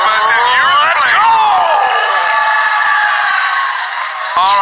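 Crowd cheering and shouting at a Command and Conquer Rivals championship match, a loud, sustained roar of many voices with whoops rising and falling throughout.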